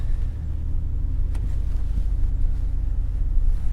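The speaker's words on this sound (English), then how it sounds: "Oh, the engine does not like that. It is running rough." Government surplus car idling rough with a stumble, a steady low engine rumble with uneven pulsing and faint wind noise, close and alone.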